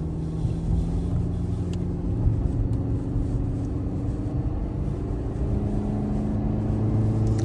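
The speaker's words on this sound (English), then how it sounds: "you've got a little bit of engine noise when it's at higher acceleration as you're accelerating" A steady, low car engine rumble heard from inside the cabin while driving and accelerating, broad and continuous with road noise and no talking.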